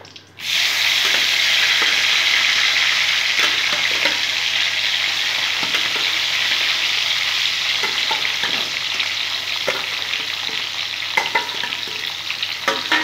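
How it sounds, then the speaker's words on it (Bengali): Spiny gourd (kakrol) pieces rubbed with salt and turmeric fry in hot oil with a loud, continuous close-up sizzle, dotted with small clicks and taps of stirring. "বাদবাকি কাঁকরোলগুলো আমি এরকম করে ভেজে নেব।"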